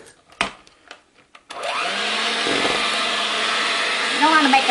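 A handheld electric mixer beats flour into chocolate chip cookie dough. A few clicks and knocks come first, then the motor kicks in with a steady, loud whirring drone that changes pitch slightly as the beaters work through the dough.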